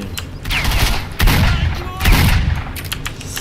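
Gunfire from a weapon in S.T.A.L.K.E.R.: Shadow of Chernobyl: loud bursts of shots that come in rapid clusters, with two heavier booming blasts about a second apart standing out over a constant background of game noise.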